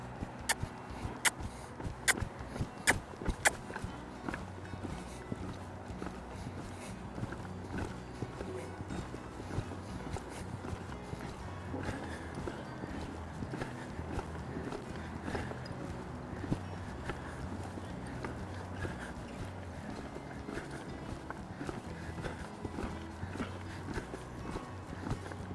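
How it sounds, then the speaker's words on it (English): A horse's hoofbeats clip-clop on the ground as it steps up into a lope, sharp strikes at first settling into a quicker rhythmic gait under faint background noise. "I'll step him up into a lope."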